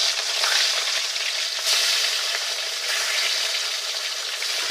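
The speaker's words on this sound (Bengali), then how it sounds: "বাকি যে মাছগুলো আছে এবার ভেজে নেব।" Pieces of katla fish fry in hot oil in a pan, a dense, even sizzle heard up close for several seconds with slight swells as the oil spits.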